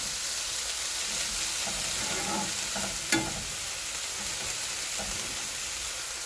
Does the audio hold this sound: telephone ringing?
no